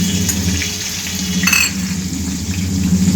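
Three chopped green chillies sizzle in a hot pan for a radish dish, giving a loud, steady, close frying hiss with a brief flare of spatter midway and no talking.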